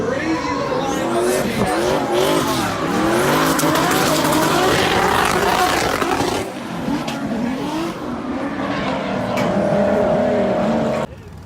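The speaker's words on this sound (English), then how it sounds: "Rampy in the lead in the SC300." Race cars, including an SC300, drift at a Hyperfest competition, loud sustained tire squeal layered over roaring, revving engines throughout, briefly easing midway before the screeching returns close and intense.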